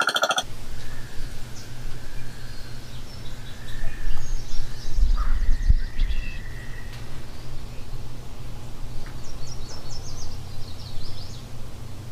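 A flock of birds feeding over a rice field calls with scattered chirps and caws, fairly faint against steady outdoor hiss and a low rumble.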